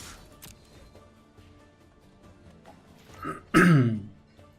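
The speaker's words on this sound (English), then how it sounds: "Sorry for the coughing." A person recovering from an illness clears their throat with a short, harsh rasp, then gives one loud, forceful cough near the end, heard close to the microphone over a quiet background hum.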